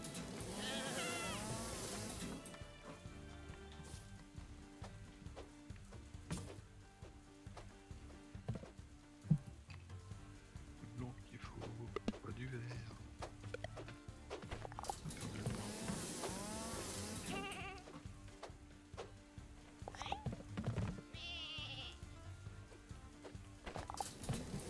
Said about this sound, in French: Allez, les moutons là.